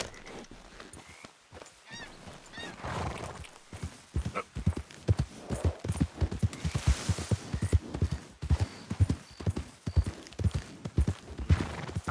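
Horse hooves clip-clop steadily at a walking rhythm in Red Dead Redemption 2, close and fairly loud, with a few faint game ambience sounds in the background.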